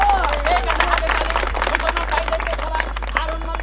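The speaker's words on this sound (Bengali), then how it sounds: "সবাই জোরে একটা হাতে তালি হোক" Audience applause at a live Eid gathering, a steady wash of many hands clapping under loud babble and voices, with a constant low hum throughout.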